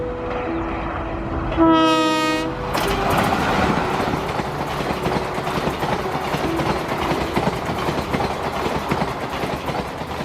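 A train at Bekal Fort railway station in Kasaragod, beside the seashore, sounds one loud, sustained horn blast, then rumbles past with continuous rolling wheel and carriage noise.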